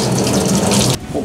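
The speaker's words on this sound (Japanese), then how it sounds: "これでお湯が出ます。" Hot water gushing steadily from a tap in a rural house in the mountains of Akita, loud and close, then abruptly shut off, leaving a quiet room.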